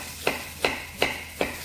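A knife chops through potatoes on a board, cutting them into cubes: four crisp, evenly spaced thuds about 0.4 seconds apart, close and clear against a quiet kitchen background.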